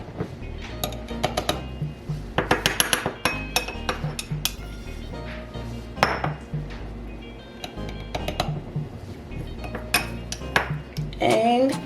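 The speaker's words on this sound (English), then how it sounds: "Next is going to be the fresh peppercorn that is going right in there." Fresh peppercorns drop into a glass jar of olive oil for a spice infusion, making a run of small, bright clinks and rattles against the glass. Scattered taps continue, then a denser cluster of clinks comes near the end.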